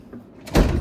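A tool drawer in a home garage sliding along its runners and closing, a short rumbling slide ending in a dull knock, close and fairly loud.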